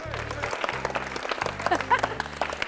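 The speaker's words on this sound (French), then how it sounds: "bravo, on peut l'applaudir" Studio audience applause on a regional Alsace TV show, a dense steady clatter of clapping lasting a few seconds, with music and a presenter's voice underneath.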